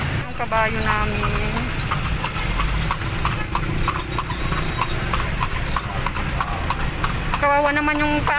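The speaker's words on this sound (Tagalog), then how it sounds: "Yung kabayo namin." A horse pulling a kalesa carriage through Manila toward Luneta clops along in a steady, even rhythm. The hoofbeats continue under people talking and faint background traffic.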